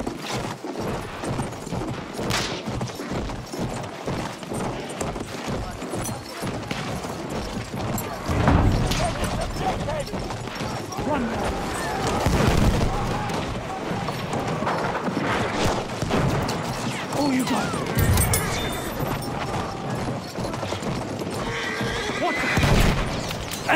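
Horse neighs and whinnies repeatedly amid Battlefield 1 cavalry combat, with hoofbeats, gunfire and battle clatter throughout, louder whinnies surging near 9, 12 and 22 seconds over a dense, busy mix.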